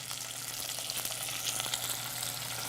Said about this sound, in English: once this gets hot, we're going to add our pork, just like so